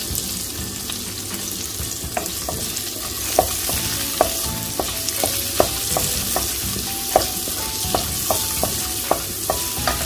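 Garlic and onion sauté gently in a pan over low heat, giving a steady soft sizzle with a string of sharp clicks and taps from a stirring utensil against the pan, with no talking.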